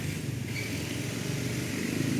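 Boat engine running steadily with a rough, knocking beat, a continuous low mechanical drone at close range with no pauses.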